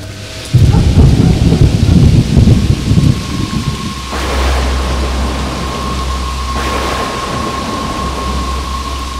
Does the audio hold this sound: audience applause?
no